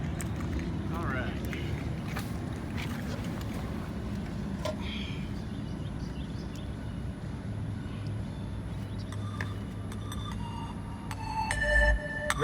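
Bass music plays through a Down For Sound JP8 amplifier driving a single Savard HiQ 12-inch subwoofer in a car, heavy low rumble sustained throughout and swelling louder at the end, with the system pushed toward distortion.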